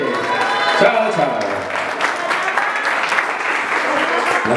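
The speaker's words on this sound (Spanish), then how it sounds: "aplauso para el mariachi" Dense, sustained audience applause with cheering for a youth mariachi band at a birthday celebration, loud and continuous, with voices mixed into the crowd noise.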